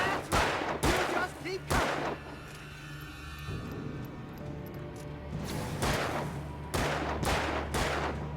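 Several heavy gunshots in Alan Wake, loud and close, spaced in short bursts at the start and end with a steady droning background between them.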